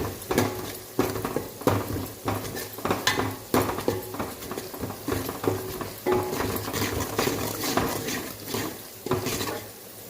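Ground green chilli, garlic and salt paste frying in oil, stirred steadily with a utensil scraping the pan in repeated rhythmic strokes over a continuous close sizzle, with no talking.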